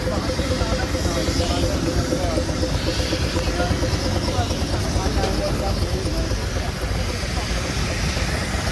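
A 1921 steam engine owned by Noel Benaway runs with a steady, loud hiss and rumble at an outdoor show in hot weather, the sound continuous and unbroken throughout.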